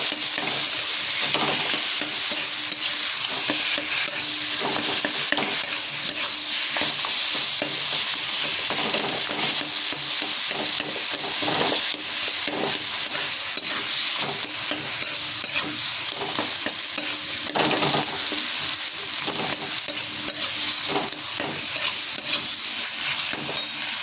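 Tomatoes, eggplant and potato stirred together in a pan with a sour, salty, spicy seasoning; continuous close sizzling with steady rhythmic scraping and clanking of the spoon against the pan, loud and unbroken, no voices.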